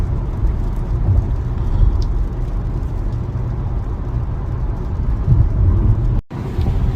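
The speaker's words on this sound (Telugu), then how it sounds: "వర్షం స్టార్ట్ అయింది మనకి ఇప్పుడు." A car drives from Los Angeles toward Phoenix while light rain falls, giving a steady, loud road and engine roar with a soft wash of drizzle hiss over it and a brief dropout near the end.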